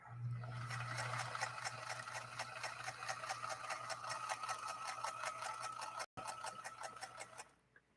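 A rare Singer 222K sewing machine stitches through vinyl with a fast, even mechanical chatter and a low motor hum. The sound cuts out for an instant near the end, then winds down as the stitching stops.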